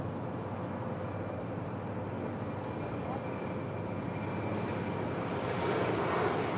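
Turkish Airlines airliner on a runway at LAX, a steady broadband jet engine roar that holds level and swells slightly near the end, with faint voices underneath.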